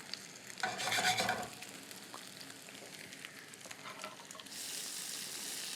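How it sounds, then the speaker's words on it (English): Bok choy sears and sizzles in a hot pan, a soft steady frying hiss with a louder burst of stirring near the start and the sizzle rising again toward the end. "we're about there with the searing"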